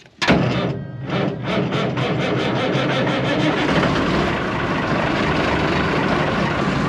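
An old, cold-blooded Cummins diesel engine fires up and runs continuously at a loud, steady idle while warming, with a rough low rumble and no talking over it.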